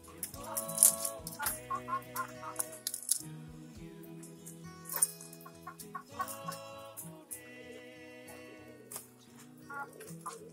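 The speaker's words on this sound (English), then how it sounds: "Okay, these are young birds." Young pigeons in a loft make soft cooing and clucking calls, with scattered wing flutters and light knocks. The sounds are quiet and spread through the space, and no one speaks.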